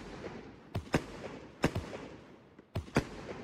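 Fireworks cake bursting in the video game Fireworks Mania, Air Force One mod: sharp explosive pops arriving in quick pairs, three pairs in a few seconds, over a steady low crackling background.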